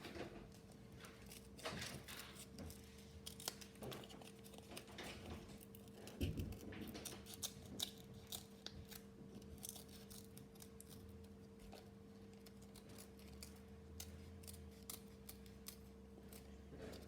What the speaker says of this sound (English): Now we're just gonna cut these two last holes